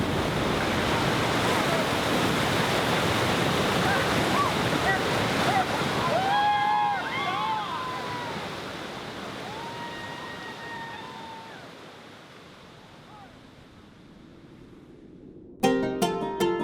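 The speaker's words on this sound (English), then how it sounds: "when the water turns to chaos, when it tumbles and churns" White water rapids on the Kern River in California roar as a broad, steady rush that slowly fades toward the end, with faint voices audible and a brief sharp knock just before the close.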